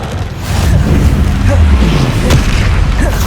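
Expulso explosion spell cast in Hogwarts Legacy on Xbox Series S: a loud, deep booming blast that swells and rumbles on for several seconds.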